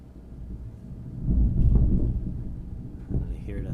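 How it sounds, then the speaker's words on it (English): Low rolling thunder from an approaching storm swells in the middle and fades, a deep muffled rumble indoors with a faint voice and small handling noises around it. "I hear the thunder."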